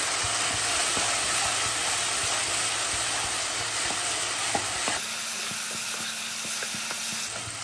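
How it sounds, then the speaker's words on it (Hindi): Green chillies and mutton pieces fry in plenty of oil in a Hyderabadi tala hua gosht, giving a steady, close sizzle with the faint scrape of stirring throughout, and no voices. "ऐसे ही थोड़ी देर के लिए इसे फ्राई करते जाइए।"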